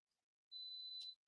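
A single long electronic beep from an air conditioner, a steady pure tone lasting about two-thirds of a second in an otherwise quiet room.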